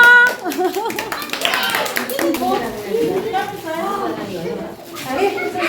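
Children at a school Children's Day celebration clap for a game winner, a dense burst of many hands applauding that rises, then tapers, with kids' voices and chatter mixed throughout.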